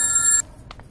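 A telephone ringing over a call, heard as one steady electronic ring tone that stops short partway through, followed by faint clicks on the line.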